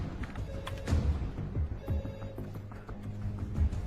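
A telephone rings in a French action film scene where an ambulance attendant leaves a patient to answer it, repeated ring pulses heard fairly close amid background noise and bustle.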